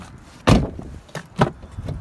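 A Volkswagen Jetta's door handle is worked, giving a sharp close click-clack followed by a few lighter mechanical clicks and taps.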